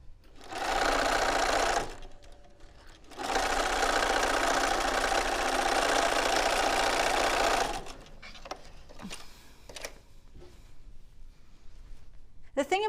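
A sewing machine stitching quilt pieces runs in two steady, loud bursts, a short one and then a longer one, with quiet fabric handling afterward.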